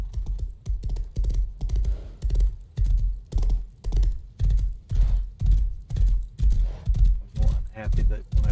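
Steady rhythmic horse hoofbeats in the video game Rust clop along at a trotting pace, loud and close, with a faint hum underneath.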